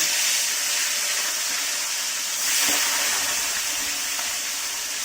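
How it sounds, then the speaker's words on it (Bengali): Fish heads fry in hot oil in a wok, a loud, steady sizzling hiss that fills the whole stretch and swells briefly midway, with no talking. "এবারে আমি দিয়ে দেবো মাছের মাথাগুলো ভেজে নেওয়ার জন্য"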